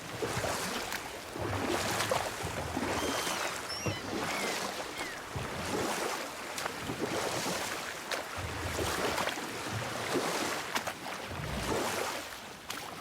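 A boat being rowed across water in God of War, oars splashing in a rhythmic pull under steady lapping water and a wind-like ambient wash, moderately close with no talking.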